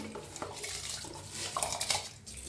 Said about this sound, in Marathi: थोडंसं असं चमच्याने हलवून घेऊया